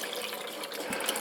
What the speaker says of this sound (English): We turn the water on, and there's no spurts or sputters.